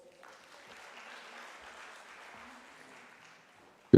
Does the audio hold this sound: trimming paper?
no